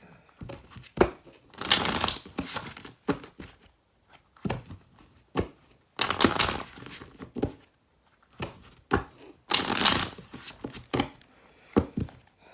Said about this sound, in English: All right, Taurus, 3 more shuffles.